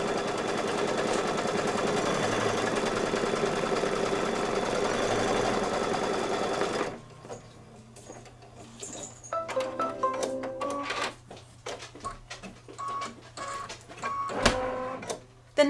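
A home embroidery machine stitches the tack-down outline on a Kimberbell Christmas ornament. A steady, dense mechanical hum gives way to quicker, irregular stitching clatter and ticks, close-up and fairly loud, with no talking.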